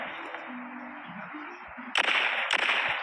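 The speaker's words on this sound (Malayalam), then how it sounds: "നമ്മളിതിനെ വെടിവെക്കണം." Gunfire in World War Polygon, a World War 2 shooter game: two sharp, loud shots ring out about half a second apart, breaking through a steady hum layered with faint tones.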